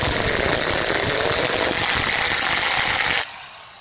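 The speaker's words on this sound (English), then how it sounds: "So I'm trying on a steel here." An iBELL impact drill bores into steel with a loud, continuous, harsh grinding whir close up, running steadily for about three seconds before stopping abruptly.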